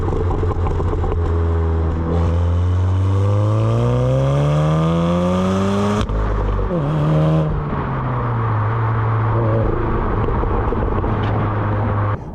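A loud Volkswagen Golf R Mk7 engine revs up with rising pitch, drops off sharply, then roars again with burbling exhaust and settles into a steady drone.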